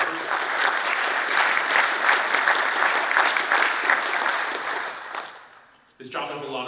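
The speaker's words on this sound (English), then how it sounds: "I'd just like to applaud them for all of their efforts" A roomful of people at a board meeting claps steadily for several seconds, the applause tapering off before a voice begins speaking.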